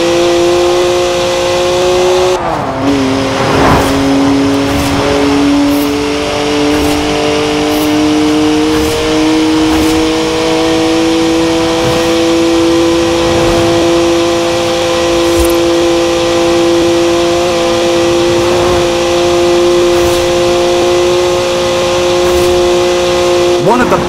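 A BMW engine in Forza Horizon 4 holds a loud, steady drone, rising in pitch once early and then sustaining a smooth high rev, with people talking over it throughout.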